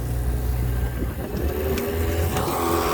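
Sailboat's inboard engine running steadily at low RPM while under way, a continuous low droning hum with faint mechanical rattle, close and constant, no talk.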